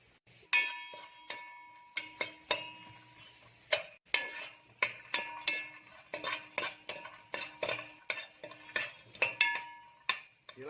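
Dry coconut toasted in a pan with no oil, stirred with a metal spoon that clinks and scrapes in a steady, repeating rhythm of sharp metallic taps, close and quiet.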